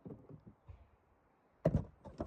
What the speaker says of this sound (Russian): И дверь открылась.